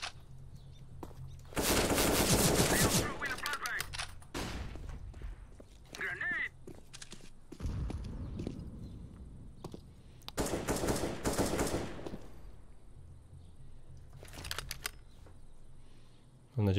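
An automatic sniper rifle firing in a shooter game, loud bursts of rapid shots in several separate volleys with quieter gaps between, and a voice talking at times.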